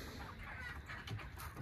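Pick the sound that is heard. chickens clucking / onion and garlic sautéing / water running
chickens clucking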